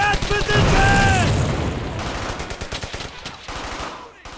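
Squad gunfire in the World War II shooter Brothers in Arms: Hell's Highway: a loud burst with a boom opens, followed by a long run of rapid rifle and machine-gun shots that gradually fade and thin out.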